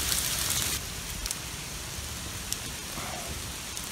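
Steady rain pours during a hailstorm in Red Rock Canyon, a dense continuous hiss of drops on rock and ground that is heaviest at first, then eases slightly, with a few sharper pattering hits.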